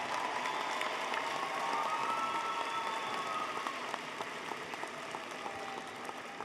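Audience applause for College of Education and Health Profession graduates at a university fall commencement ceremony, a steady wash of many hands clapping from a distance with some tonal hall sound beneath, fading slightly toward the end.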